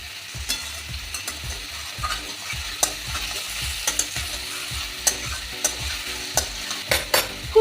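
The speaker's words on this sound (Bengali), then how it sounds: "এটা আস্তে আস্তে ভেজে নেব" Boiled papaya and potato pieces frying slowly in a pan over medium heat, with a soft continuous sizzle and regular scraping strokes of a spatula stirring about every half second, close and fairly quiet.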